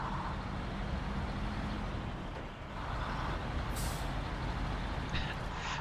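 A truck's air brakes let out short, sharp hisses, two brief bursts rising over a steady, loud engine and road rumble.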